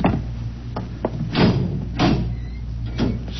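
A door opening in an old-time radio drama, set in an unusual double-walled silo, heard as a few muffled knocks and thuds spaced about a second apart over a low steady hum.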